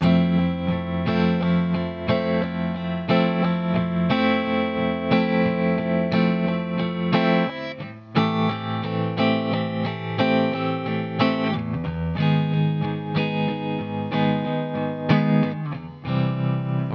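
An electric guitar with effects strums a chord progression continuously, chords changing every couple of beats, loud and close, with no talking.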